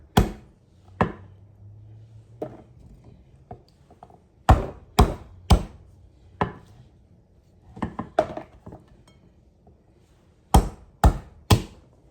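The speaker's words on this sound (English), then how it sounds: "So we got all of our radishes crushed." Whole radishes smashed to crush them for spicy smashed radishes: a dozen or so sharp, close thuds at irregular intervals, some landing in quick pairs or triplets, with quiet gaps between and no talking.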